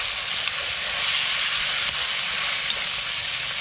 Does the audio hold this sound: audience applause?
no